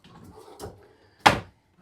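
A self-closing dresser drawer in an inside cruise ship cabin slides shut, with a soft rolling scrape and then one sharp close knock, heard up close in a quiet room.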